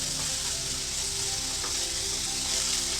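Meatballs sizzle and fry steadily in a hot pan as they brown for a meatball curry, a continuous close crackling hiss with no talk.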